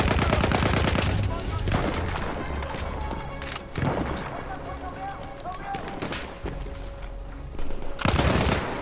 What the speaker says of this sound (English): wait for the enemy artillery barrage to start firing